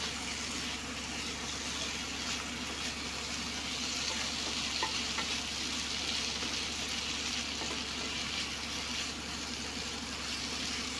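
Pork fries in a pan with potatoes and chillies, a dense, even sizzle that holds steady throughout at moderate volume, with faint stirring scrapes and no talk.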